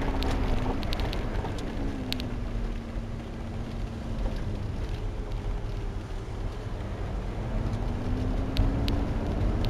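Lamborghini LP560 Spyder engine while driving: a steady, loud low rumble throughout, with a rising and falling engine tone as it revs through gears, plus faint road and wind noise.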